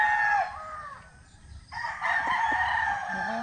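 A rooster crows loudly and nearby, one long drawn-out call with a brief pause partway through, over a quiet background.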